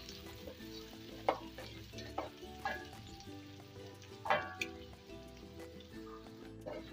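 Green onion and tomatoes sautéing in a pan, a steady low sizzle with scattered clinks and scrapes of stirring at irregular intervals, close and moderately quiet, with no talking.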